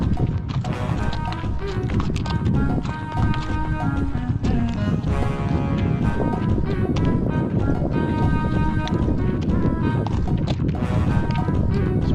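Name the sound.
horse hooves clip-clopping during a ride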